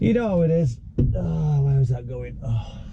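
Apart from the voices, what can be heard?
No everyday noises stand out.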